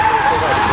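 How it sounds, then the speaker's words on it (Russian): A race car skidding off the track, heard as a loud sustained tire and engine roar with a steady whine throughout, close and dominant. "Машина выпадает с трассы."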